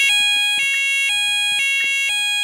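Fire alarm sounding inside an Asda supermarket: a loud, steady electronic tone pattern repeating in pulses about every half second, with a shifting pitch step, filling the clip without speech.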